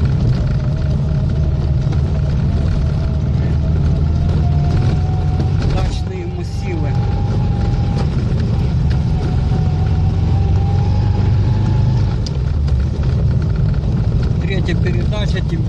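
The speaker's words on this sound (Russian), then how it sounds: "вторая передача. Поднимаемся наверх, на гору." A ZAZ-965 car climbs a hill in second gear, its engine a loud, steady low drone with rising pitch from inside the cabin, while someone talks over it.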